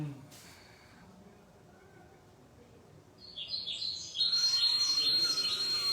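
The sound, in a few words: recorded sparrow calls from a bird-scaring device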